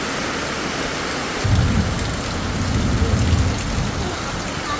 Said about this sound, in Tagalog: Ngayon ang lakas na naman ulit ng ulan.